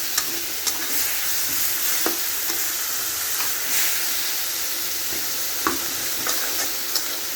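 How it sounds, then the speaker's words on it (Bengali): Red amaranth greens frying in a pan over browned onions and stirred with a spoon, a bright steady sizzle with occasional light spoon scrapes and taps, close and fairly loud, no voices. "চামচ দিয়ে ভালো করে এরকম জাতা জাতা দিয়ে নেড়ে নেব, তাহলে শাকগুলো একটু নরম হয়ে যাবে।"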